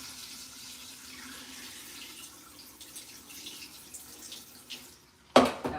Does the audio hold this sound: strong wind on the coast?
no